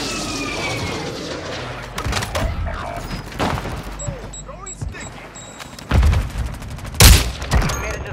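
Sporadic gunfire in a video game combat match, scattered sharp shots and bursts near and far, some loud cracks toward the end, with voices and game callouts in between.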